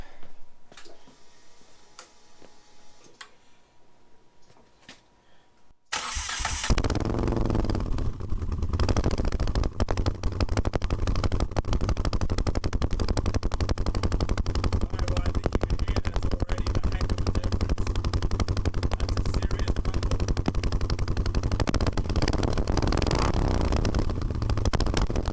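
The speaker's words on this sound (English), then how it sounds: "Let's go start the bike." A Moto Guzzi V7 motorcycle engine, its left exhaust drilled out and the right still stock, starts abruptly after a quiet lead-in and then idles loud and steady with a rapid, even thumping pulse, close by.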